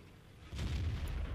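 A WZ-132 Chinese light tank fires its cannon in World of Tanks, a sudden heavy boom that lands after a quiet moment and rumbles on low and loud.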